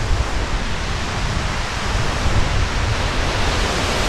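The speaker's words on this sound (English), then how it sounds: "So we've come over as far as the Lowell Creek waterfall." Lowell Creek waterfall in Seward, Alaska, heard as a steady, loud, broadband roar of rushing water that continues unchanged throughout.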